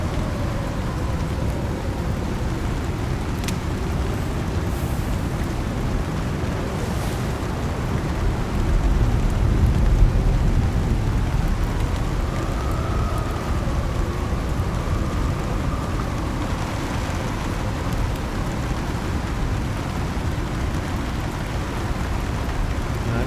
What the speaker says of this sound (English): That's pretty much the worst part of the storm out of the way now.